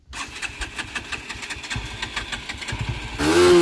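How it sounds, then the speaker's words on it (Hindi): A motorcycle in hot sun near Michnar Hill in Bastar, which had refused to start for a long time, finally fires up: a busy, rattling churn gives way to a loud, close engine roar that catches in the last moments. "सो गाइस फाइनली हो चुकी है गाड़ी स्टार्ट,"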